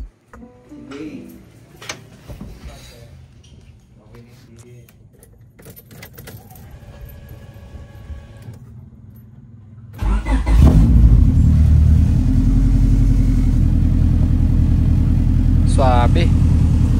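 A Honda Civic being readied for racing cranks and fires up about ten seconds in, then settles into a loud, steady idle with a raised revving drone. Before that come keys jangling and handling noises, and people talk throughout.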